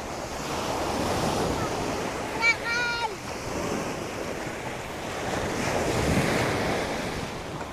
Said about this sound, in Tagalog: Maalon sa Boracay.